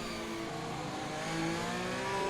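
In a video game, an F1 car's engine runs at low revs in a high gear with a steady, buzzy drone and layered harmonics. It rises gently in pitch and loudness toward the end.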